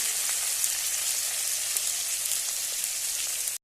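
Ground turmeric and whole cumin seeds sizzle and fry in hot oil for a small-fish dish, a steady close crackling hiss with tiny pops throughout, no voices.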